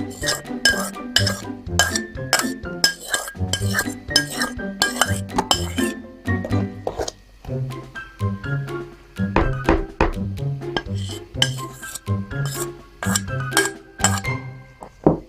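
Ensaïmada dough with bread flour is mixed in a bowl, producing continuous clinks and knocks of a utensil against the bowl in a fast, rhythmic pattern, loud and close.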